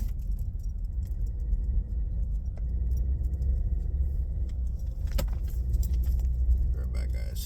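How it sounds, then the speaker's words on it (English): Inside a car driving on a winter road, a constant low rumble of road noise fills the cabin, with occasional light rattles and clicks like jangling keys. "And sorry for the road noise"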